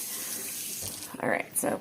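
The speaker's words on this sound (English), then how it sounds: "So I'll get my hottest water out of my sink and pour it on in there." Hot tap water runs from a kitchen sink faucet and is poured into an Instant Pot 7-in-1, a steady close splashing stream with louder gushes near the end.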